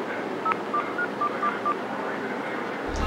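Touch-tone telephone keypad being dialed: a quick string of six short DTMF beeps spaced evenly over about a second and a half, clear and close against a hum of party background noise aboard a yacht.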